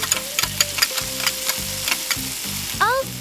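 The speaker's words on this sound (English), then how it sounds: "Then add the squid when the sauce is boiling. Continue to stir and mix." Squid sizzles and is stirred in boiling sauce in a miniature pan, with soft rhythmic scraping strokes over a steady close-up frying hiss, ending in a brief high chirp.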